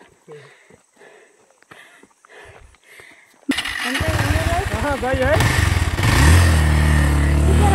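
Quiet footsteps and light noise, then a motorcycle engine suddenly starts and runs loudly, rising in pitch as it revs up nearby.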